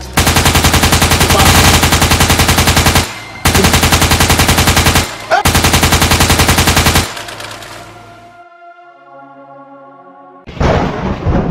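Gunfire rings out in a Nigerian film scene: loud automatic bursts come in three long volleys, then a ringing tail fades away before another sudden burst.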